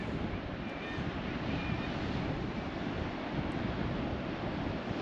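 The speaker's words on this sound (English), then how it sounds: "Hear the sea, hear the seagulls." Sea waves wash below the Cornwall cliffs in a steady, distant broadband roar mixed with wind, constant and even with no distinct breaks, and no talking.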